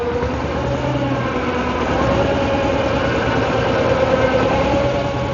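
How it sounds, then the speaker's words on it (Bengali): A boat engine idles nearby with a steady, loud low rumble and a constant drone, unchanging throughout, recorded close to the engine with noise cancellation off. "এই মুহূর্তে ইঞ্জিন চালু হলো এই নৌকার"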